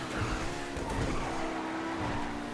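A Pegassi Torero XO, a Lamborghini Countach-style supercar in a video game, drives fast with a continuous engine drone and tyre skidding, steady and moderately loud with no talk.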